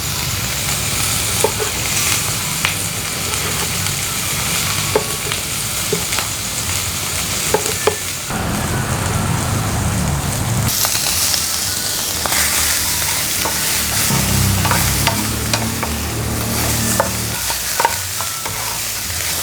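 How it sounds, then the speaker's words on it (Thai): Pork belly stir-fries in oil in a pan, a loud, continuous sizzle broken by repeated scraping and stirring strokes, close and without talk. "ถ้าเกิดว่าตอนที่เราจี่แล้วน้ำมันออกไม่เยอะนะคะเราก็ใส่น้ำมันที่เราเตรียมไว้ค่ะลงไปผัด"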